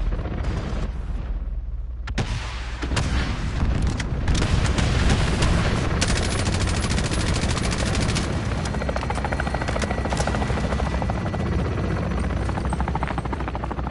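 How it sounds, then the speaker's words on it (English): Helicopter in the video game Modern Warfare: a loud, continuous rotor roar with a steady thumping texture fills the whole stretch, near and dense, with a brief dip early on before the chopper noise swells and holds. "Oh, was that the chopper then?"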